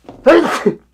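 A single close, loud human sneeze with a short intake before it and a quick trailing tail, heard alone with no talk.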